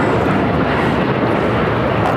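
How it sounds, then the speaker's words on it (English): Japan Airlines Boeing 787-9 Dreamliner taking off from LAX for Osaka, a loud, steady broadband jet roar that holds without a break. "this is Japan Airlines Flight 69 taking off to Osaka on the 787-9 Dreamliner"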